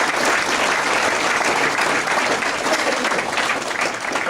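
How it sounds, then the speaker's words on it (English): An audience at a 2019 awards banquet claps steadily in loud, dense applause that holds evenly for several seconds without letting up. "Please give her a big round of applause."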